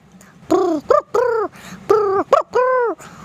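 A voice imitates a pigeon with a series of cooing, warbling calls in short bursts, close and fairly loud.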